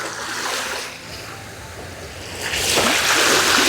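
Calm sea waves wash near the shore at Donsol in the Philippines, a soft continuous surf that swells into a louder rushing break toward the end.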